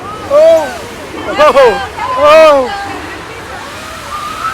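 Loud rushing water surges with splashing from a simulated flood on the Universal Studios Hollywood studio tour, while several people shout and scream excitedly over it in bursts.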